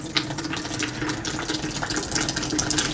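Water flowing steadily out through a subsurface agricultural drain pipe at an intercept or cut-off drain, a continuous close trickling and gurgling wash with no talk.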